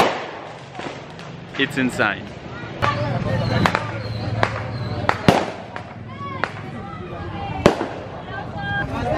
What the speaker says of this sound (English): the town is loving the fireworks